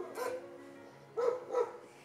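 Dogs bark at an animal shelter: one short bark followed by a quick pair, fairly quiet and somewhat distant, with a low hum of background in between.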